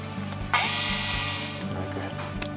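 A Work Sharp knife sharpener with a 120 grit belt grinds a new bevel on a blade, a steady close abrasive hiss and whir over a motor hum, starting abruptly and holding for a couple of seconds.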